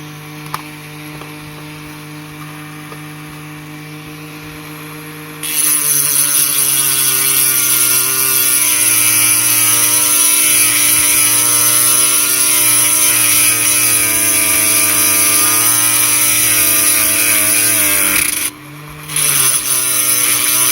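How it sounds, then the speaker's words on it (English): Rotary grinder cutting out a mount on a resin-cast Hot Wheels HO slot car of a Torana A9X, a loud high-pitched whine that spins up sharply after a quieter hum, holds steady, briefly dips, then resumes. "I'll have to grind that mount out."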